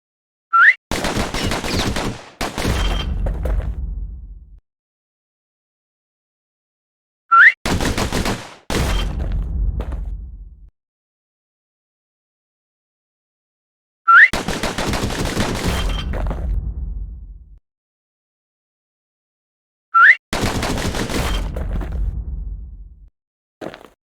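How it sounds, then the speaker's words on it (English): Pistol fire in the video game Bastion rings out in four separate rapid volleys, each a fast string of sharp shots with a short echoing tail, separated by silence. "Those pistols could spit out rounds just as quick as you could pull the trigger."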